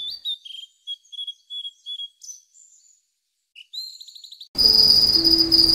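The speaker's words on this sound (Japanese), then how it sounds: "後ろでね、コオロギが大量に鳴いておりますが" Many crickets kept indoors alongside a tarantula chirp in quick repeated trills, close and steady, broken by brief pauses before a dense, loud chorus swells in at the end.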